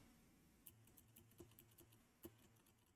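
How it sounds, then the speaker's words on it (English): Computer keyboard keys are struck in a few sparse, quiet taps spread over a few seconds against a faint background hiss, with no talking. "You can hear me mashing my keyboard."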